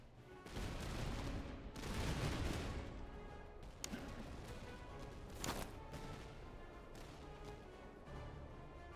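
Gunfire in the video game Master of Command: heavy volleys of musket-style shots and booming cracks, a loud crashing burst early, then scattered sharp reports with distant rumbling continuing underneath.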